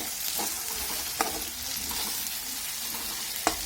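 Onion being stirred into reddened garlic in a hot pan while pav bhaji masala is cooked, a steady close sizzle of frying with a few sharp scrapes of the spoon against the pan.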